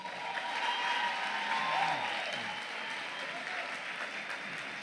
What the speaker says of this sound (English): Let's give our 23 Alpha graduates another round of applause.